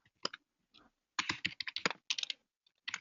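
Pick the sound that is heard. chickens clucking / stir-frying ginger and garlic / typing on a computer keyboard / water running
typing on a computer keyboard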